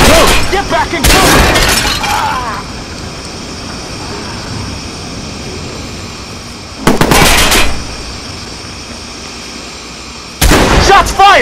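Bursts of gunfire from the Watch Dogs video game during a jailbreak mission, three loud broadband volleys spaced several seconds apart over a steady game background, with sharp crackling peaks.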